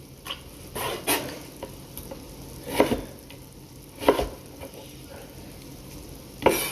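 Meat frying and being stirred in a pan, with a steady sizzle beneath repeated scraping strokes and sharper clatters of the utensil against the pan, a few louder knocks standing out close by.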